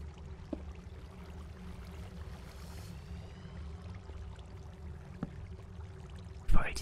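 Water flowing through a flooded cave in the Minecraft video game, a soft, steady trickling wash with a few faint clicks and a brief louder knock near the end.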